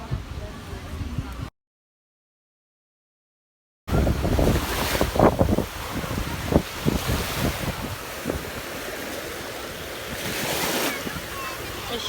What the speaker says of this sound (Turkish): hızlı bir dalga çıktı şu